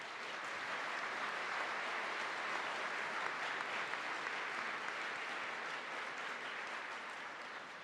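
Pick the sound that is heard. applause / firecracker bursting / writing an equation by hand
applause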